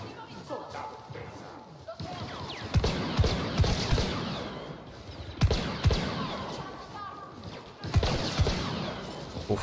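Blaster fire from Star Wars Battlefront 2 gameplay, a few sharp shots spaced apart amid busy game action, with talk running over it throughout.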